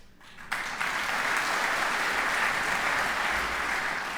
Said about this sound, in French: Vous êtes gentil de m'applaudir maintenant que ça a été décidé.